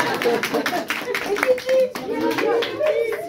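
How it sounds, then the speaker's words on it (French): An audience claps at the close of a French student stage performance, brisk scattered hand claps close by, overlapped by voices and chatter. "on a oublié d'applaudir le public."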